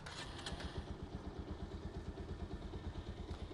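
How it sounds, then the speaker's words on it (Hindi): A Bajaj Pulsar 125 motorcycle engine idles with a steady, rhythmic low thump, close by and fairly even throughout. "let's start the bike।"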